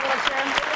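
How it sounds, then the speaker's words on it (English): A studio audience cheers and applauds on a sports talk show, a dense, loud wash of clapping and crowd noise throughout a brief moment. "why don't you stand up and give us a little cheer"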